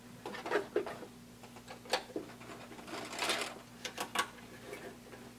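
A sewing machine back stitches at the end of a seam on a blanket coat sleeve, giving a few short, quiet bursts of ticking needle strokes, close by with a low hum underneath.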